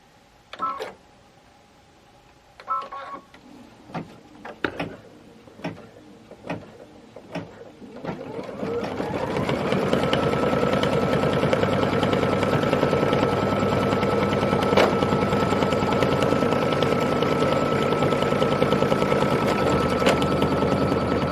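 A home embroidery sewing machine runs loud and steady for about twelve seconds after a stretch of scattered clicks and brief taps, with a constant whirring hum.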